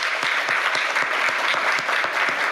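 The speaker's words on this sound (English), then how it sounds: "Let's give the panel a round of applause" Steady, dense applause from a seated audience thanking a panel at a public forum on food access in Arkansas, a continuous wash of many hands clapping with no voices over it.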